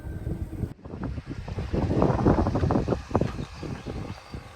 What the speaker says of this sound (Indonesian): Nah angin mulai keras dan bunyi guntur mulai terdengar